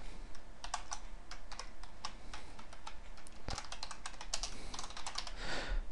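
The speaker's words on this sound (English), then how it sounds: "Now, you may see me typing," Rapid clattering keystrokes on a computer keyboard, fast and uneven, with one heavier thump midway like a spacebar or enter key.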